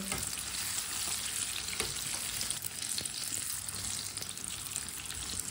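Pakoras frying in hot oil give a steady, dense sizzle that runs unbroken throughout, with occasional faint clinks of stirring and no voices.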